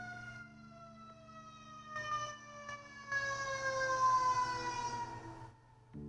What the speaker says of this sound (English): I'm gonna wait for the siren, hold on.